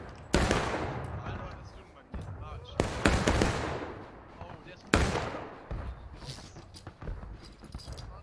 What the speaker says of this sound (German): der Schuss ging über meinen Kopf weg